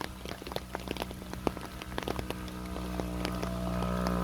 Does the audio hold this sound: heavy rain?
yes